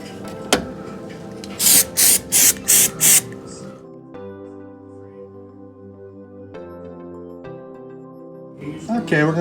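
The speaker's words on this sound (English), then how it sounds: "Again, we're just using some Rust-Oleum undercoating paint." Rust-Oleum undercoating paint sprayed from a can onto shackle relocation brackets on a Jeep XJ: five short, loud hissing bursts in quick succession early on, set against a steady tonal hum, with a faint hiss returning at the end.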